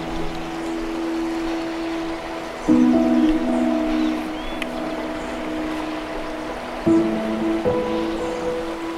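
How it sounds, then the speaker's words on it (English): A river or stream runs beside bluebell woods, a steady soft wash of water that never stops, with a few faint tonal hums drifting over it. "Come up along the bank of this river or stream here now"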